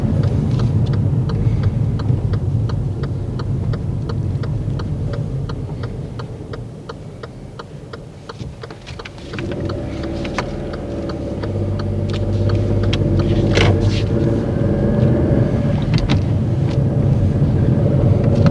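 A car's steady engine and road rumble while driving, with a rhythmic indicator ticking through much of the drive and a brief dip in noise midway before the cabin drone returns.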